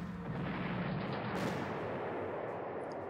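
Artillery barrage in the Panzer Corps strategy game, a steady dense rumble of cannon fire filling the whole stretch at a constant loud level with no talk.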